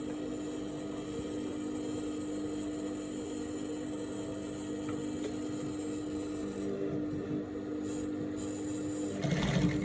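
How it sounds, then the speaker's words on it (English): A sewing machine top stitches the fly side of straight leg pants, humming steadily and softly at close range with a brief louder rattle at the end. "So I'm going to top stitch."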